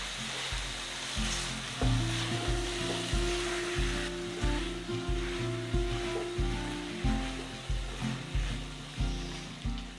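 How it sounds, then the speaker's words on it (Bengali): Desi chicken pieces for chicken darbari sizzle and fry in a pan over a high flame, with a steady frying hiss and regular rhythmic scraping thumps as they are stirred continuously, close and loud. "সব কিছু খুব ভালো করে নাড়াচাড়া করে কিছুক্ষণ 10 মিনিটের জন্য কষিয়ে নেব।"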